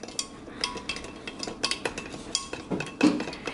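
White pepper being stirred into a dish for spiced herb chicken, a series of light metallic scrapes and clinks of a spoon against the dish, quiet and close.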